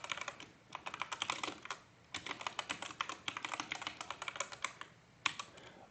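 Rapid typing on a computer keyboard while writing Java code, dense crisp key clicks in quick runs with two brief pauses, close and clear with no talking.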